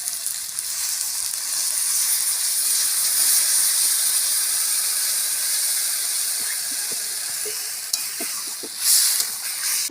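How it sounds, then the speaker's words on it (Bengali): Water poured into a hot pan of spiced taro (kochu mukhi) curry sends up a loud, steady hiss of steam and sizzle for the whole stretch, with a few faint clinks near the end and no voices. "এবারে জল দিয়ে দেবো।"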